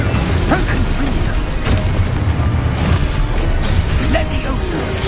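Fire-blast spell explosions from the Confringo curse in the Hogwarts Legacy video game, loud dense booms layered over constant combat noise with repeated bursts throughout.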